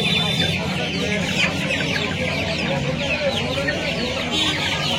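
Clucking chickens fill a poultry market in Uluberia, Howrah, a continuous crowded chorus of overlapping fowl calls with brief higher squawks scattered throughout.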